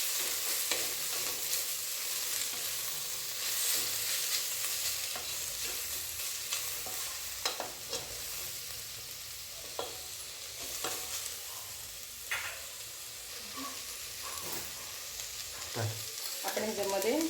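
Capsicum and spring onion stir-fry in a pan for Chinese-style pasta, with a constant sizzle and hiss broken by repeated scrapes and clacks of a spatula tossing the vegetables, close and steady.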